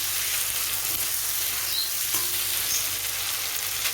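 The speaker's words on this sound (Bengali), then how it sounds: "একটু নুন দিয়ে দিলাম মশলাটাকে সুন্দর করে কষানোর জন্য।" Onion, ginger, garlic and salt masala fries in a hot pan, a steady close sizzle running throughout with faint stirring scrapes and no voices.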